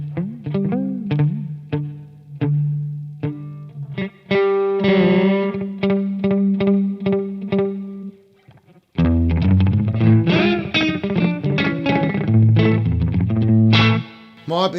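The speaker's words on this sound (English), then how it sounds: "the other reason that people love these is for a really fancy slapback echo" Electric guitar played through a vintage Maxon AD-80 analog delay pedal set to a single short repeat for slapback echo, with strummed chords and picked notes doubling closely, loud and continuous with a brief pause near the middle.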